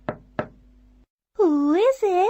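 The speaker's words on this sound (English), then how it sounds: "He knocked on the door." Two sharp knocks on a wooden door, close and evenly spaced, followed after a short pause by a voice speaking.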